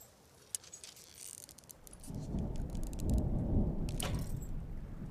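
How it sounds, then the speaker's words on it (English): A thunderstorm rolls through in the game Smalland while the player is down in a sewer. Low thunder rumble swells over steady rain, and scattered metallic clicks and jangles sound in the foreground. "I wonder how a storm works when you're down in the sewer."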